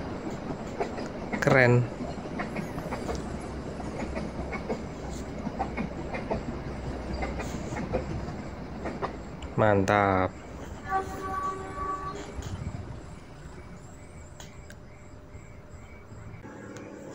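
A full stainless steel passenger train of 10 cars rolls past with a steady rumble and rhythmic clatter, two loud horn blasts, and someone speaking briefly in Indonesian over it.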